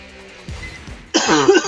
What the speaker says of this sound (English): As I cough my lungs out.